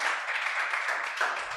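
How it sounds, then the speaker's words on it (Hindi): An audience claps steadily for the winner of a quiz show. The applause is dense and sustained, with a brief swell near the end. "और इसी के साथ एक बार जोरदार तालियां,"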